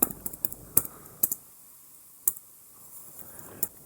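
Computer keyboard typing while coding in Eclipse: a quick cluster of crisp key clicks at the start, then a few isolated taps, close and fairly quiet.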